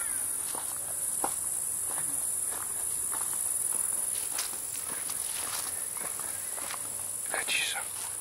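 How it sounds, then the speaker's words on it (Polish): Constant high-pitched chirring of crickets fills the background while footsteps crunch along at a walking pace. "Świerszcze tylko słychać."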